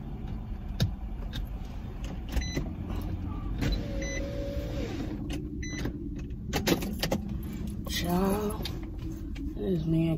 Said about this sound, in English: Roll the window up, Bobby.